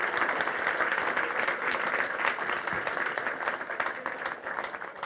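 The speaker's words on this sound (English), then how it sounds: "Big round of applause for Benjamin Zephaniah." An audience applauds the poet Benjamin Zephaniah, a broad wash of clapping from a crowd that stays strong and then gradually thins toward the end, with no talk over it.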